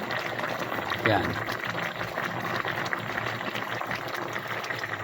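A pot of coconut milk with tilapia and pechay bubbling steadily, a close, continuous gurgling hiss, with a brief spoken word near the start.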